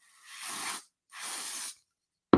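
A spray bottle mists product onto an arm in two separate close, soft hissing sprays of under a second each, followed by a brief click.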